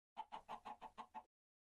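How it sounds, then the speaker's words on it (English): Chickens clucking in the video game Minecraft: seven quick, evenly spaced clucks in a short burst, fairly loud and close, then silence. "let's spawn some chickens."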